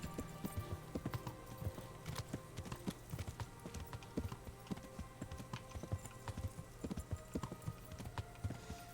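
Horse hooves clip-clop at a steady rhythm in the medieval video game Kingdom Come: Deliverance, the footfalls close and distinct over a low game ambience with no talk.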